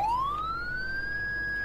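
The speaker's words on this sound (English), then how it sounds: "We'll run a lights and then the sirens at the intersection to the hospital." An ambulance siren in the farming game Farming Simulator 19, a single loud rising wail sweeping upward and holding its high pitch, close and clear with no talking.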